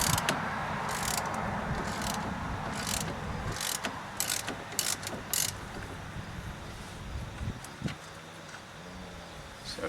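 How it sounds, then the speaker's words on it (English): Ratchet with an 18mm socket loosening a strut bolt on a 2001 Dodge Caravan Sport, close-up, with quick repeated clicking pawl bursts over a low mechanical rumble. "So I've got 18mm socket here, and I've still got my wrench on the back to keep that from turning."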